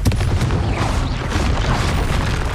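A Confringo fire spell bursts in Hogwarts Legacy as a loud, dense blast with a rumbling low roar that holds steady without a break.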